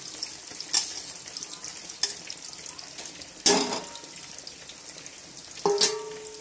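Curry leaves, onion pieces and green chili fry in hot oil in a pan for a village-style taro curry, giving a steady soft sizzle with a few sharp spits and utensil clinks, no talking.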